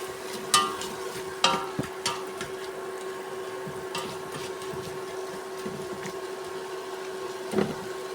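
Prawns being stirred into masala in a pan, with scattered scrapes and clinks of a spoon against the pan over a soft steady sizzle and a faint background hum.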